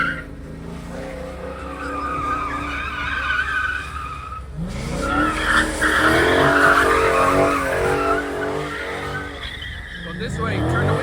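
A Dodge Scat Pack drifts in a thunderstorm, its engine roaring and tires skidding and squealing in long sweeps, with rain and wind noise beneath and a loud surge midway through.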